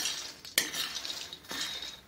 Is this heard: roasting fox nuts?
yes